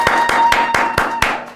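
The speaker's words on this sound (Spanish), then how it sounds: "Preparen aplausos, muchachos." Studio audience applause in an anniversary giveaway moment: a handful of loud, sharp claps in a steady rhythm over a dense wash of background sound.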